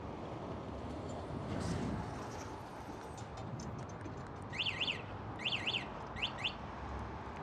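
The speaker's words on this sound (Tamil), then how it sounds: "இந்த அலாரம் வச்சுட்டு லைட்டாக ஷேக் பண்ணாலே அலாரம் அடிக்கும்." A scooter's anti-theft alarm in Armenia gives several short, bright chirping bursts in quick groups over a constant outdoor hum and road noise, moderately loud but brief.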